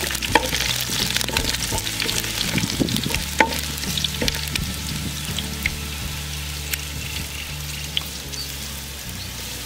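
Garlic frying in hot oil for a crab curry, a continuous loud sizzle with occasional stirring clicks and scrapes of a utensil in the pan.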